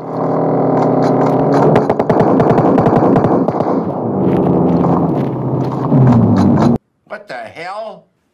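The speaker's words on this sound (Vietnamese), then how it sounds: "Mình nghe tiếng súng không bạn, có thể nghe." Rapid automatic gunfire in PUBG Mobile on the Livik map: loud, dense bursts of shots that hammer almost nonstop for about seven seconds, then stop abruptly before someone speaks briefly.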